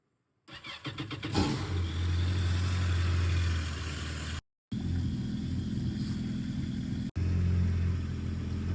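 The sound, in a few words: Yamaha WaveRunner engine starting and warming up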